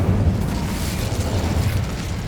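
A fire spell cast in the Hogwarts Legacy wizarding game gives a sustained, roaring whoosh of flame, loud and close, rumbling heavily without a break and with no voices.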